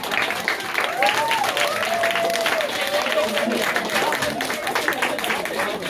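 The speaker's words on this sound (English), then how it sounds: "So can we get one more round of applause for the winners?" A school audience applauds the winners of a sixth- versus seventh-grade debate, steady crowd clapping with a voice talking over it partway through.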